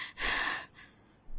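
A woman pants heavily after running, one loud, breathy gasp followed by quieter breathing, close and with no talk.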